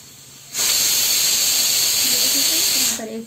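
A pressure cooker cooking pulao lets out one loud, steady hissing whistle of escaping steam, starting abruptly, holding for about two and a half seconds, then cutting off.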